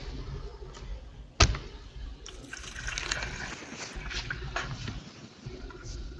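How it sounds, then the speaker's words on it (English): Fresh squeezed lemon juice poured into a mixture of rhubarb, sugar and fresh strawberries, making a steady liquid splash and trickle with a sharp knock near the start, heard alone at moderate loudness. "Then add a cup of fresh squeezed lemon juice."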